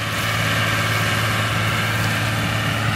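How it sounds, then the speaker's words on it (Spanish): A John Deere 3350 tractor running while pulling a disc harrow across a field plot, its engine giving a steady, continuous low drone with a constant hum and no break or change in pace. "con el tractor John Deere 3350"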